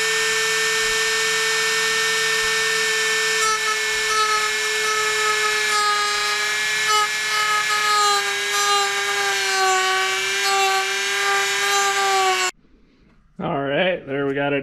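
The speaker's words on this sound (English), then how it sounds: "Try and get the bottom part dremeled out carefully. And go right along that tape edge." Dremel rotary tool whining at a high steady pitch as it cuts a hole along a tape edge when fitting a Nilight spiral LED whip light base to a Can-Am 850 XMR, then a short pause and a brief second burst.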